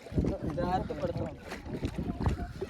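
A motor boat runs across open water with wind rushing past and water slapping the hull, while people talk over the rumble of the ride.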